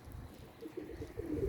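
Soft pigeon cooing, a few low, muffled coos repeating gently over a quiet background, close but faint, with no speech.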